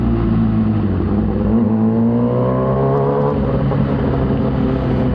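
Motorcycle engine running in slow, congested traffic, a continuous loud drone that swells and shifts pitch midway, with no talk.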